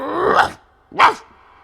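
A dog, used as a sound effect in a told folk tale about a rabbit losing its tail, lets out two close, loud gruff barks with a growly edge, separated by a brief pause.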